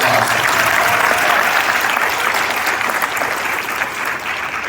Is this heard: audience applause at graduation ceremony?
yes